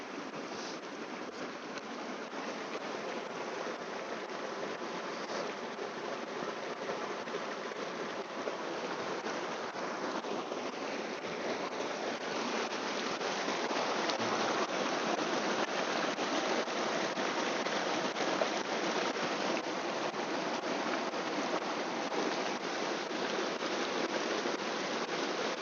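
Water flows in a continuous broad rush, steady and fairly close, swelling slightly halfway through, with no voices.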